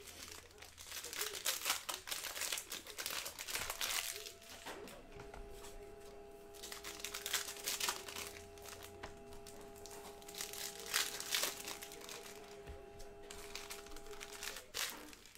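Cello packs of 2019-20 Panini Mosaic NBA cards are ripped open, with close crinkling and tearing of plastic wrapper, followed by a steady tonal hum in the background.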